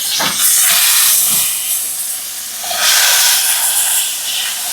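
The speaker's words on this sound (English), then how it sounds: "we're gonna sear the sides on it as well" A pork loin being seared on its sides in a hot pan throws off loud, close, continuous hissing sizzle that swells and fades in two broad surges, with no talking.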